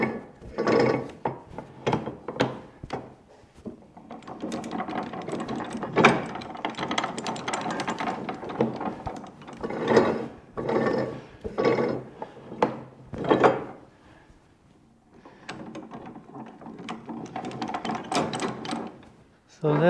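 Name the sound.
antique coach gear mechanism engaging drive sprocket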